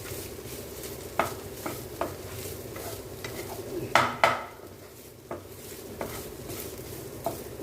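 Broccoli with shrinking masala spices sizzles gently in a frying pan for a pepper stir-fry while a utensil stirs and scrapes, with scattered clinks against the pan.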